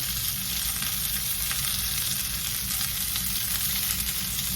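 Vegetables fry in olive oil in a skillet for a stir-fry, a dense, even sizzle that holds steady throughout while they are stirred, close and alone without talk.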